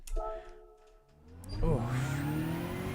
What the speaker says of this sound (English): she goes into the gravel and I'm buried